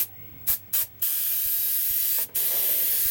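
Bob Dively's liquid mask is sprayed in loud, close, hissing bursts: three short sprays, then one long continuous spray with a brief break before it resumes.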